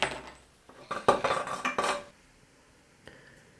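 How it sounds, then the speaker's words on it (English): A bike headset cup pressed into the frame with a headset press tool: a cluster of metallic clanks and scraping rattles for about a second, close and fairly loud, then fading to a low hum. "Place the tool, make sure everything is aligned and press the cup in until fully seated."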